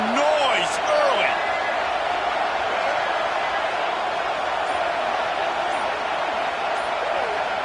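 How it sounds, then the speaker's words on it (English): A college football stadium crowd roars loudly and steadily for the whole stretch, a dense, unbroken wall of cheering and shouting with no quiet gaps. "This crowd bringing the energy and noise early."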